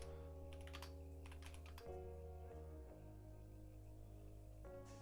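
Keys tap on a computer keyboard in short quick bursts, faint and close, over a sustained musical hum in the background.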